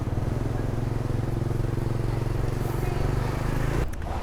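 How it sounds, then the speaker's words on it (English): A motorcycle tuk-tuk near the Mekong with a steady, close, rumbling engine idle or slow pass, continuous and loud, cut off abruptly near the end. "Great little motorcycle tuk-tuks though, aren't they?"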